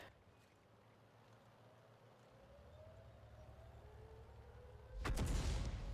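Tank cannon fire in the World of Tanks video game: a low background rumble and hum, then a single loud, booming broadband blast near the end that rings out.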